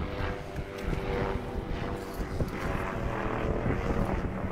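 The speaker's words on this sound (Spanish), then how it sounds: "Pueden escuchar el helicóptero." Overhead police helicopter during Gwinnett police K-9 unit training, a continuous low throbbing rotor drone with rumbling wind buffeting, fairly loud and steady throughout.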